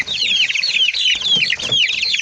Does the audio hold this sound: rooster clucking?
yes